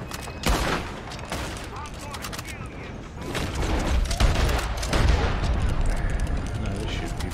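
Gunfire in the online video game Red Dead Online, with sharp repeated shots and booming bursts over a busy background, while a voice talks at times.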